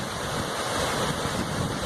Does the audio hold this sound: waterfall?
yes